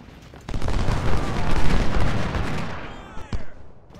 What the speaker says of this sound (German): Kanone, Feuer.